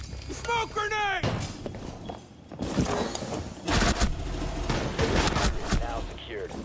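Gunfire in a tactical shooter video game, with sharp bursts of shots and clattering footsteps between them, mixed with in-game voice callouts and player talk.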